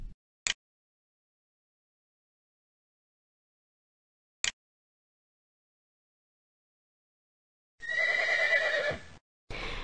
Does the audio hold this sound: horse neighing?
yes